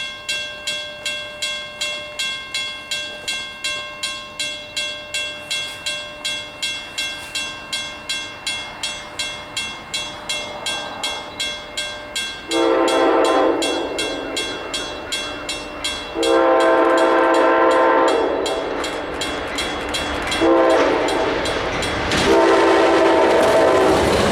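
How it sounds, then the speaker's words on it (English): Amtrak 692 passenger train bound for Boston on the old Pan Am Railways line passes close by, its wheels clicking over rail joints in a steady rhythm, then loud horn blasts sounding repeatedly, with no talk. "just in time to catch Amtrak 692 heading to Boston."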